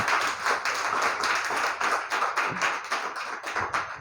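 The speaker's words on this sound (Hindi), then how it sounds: "आशा धाकड़ के लिए शानदार ताली बजाओ हार के लिए" Steady clapping from a crowd, a dense patter of many hands that holds at an even level throughout.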